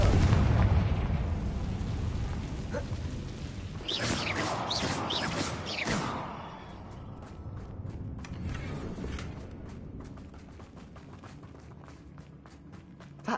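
A Confringo blasting spell goes off in Hogwarts Legacy: a loud rumbling explosion with crackling debris, followed by a trailing rattle and scattered thuds as the blast fades.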